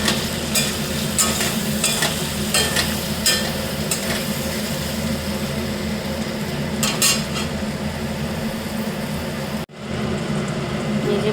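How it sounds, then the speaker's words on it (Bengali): Potatoes fry in hot oil in a home kitchen, a loud, constant sizzle overlaid with repeated utensil scrapes and clinks from stirring, the sound cutting out briefly near the end before resuming. "এখানে আলুগুলোকে একটু লাল লাল করে ভাজবো"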